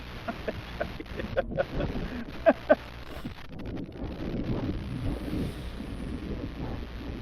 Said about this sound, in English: it's really too windy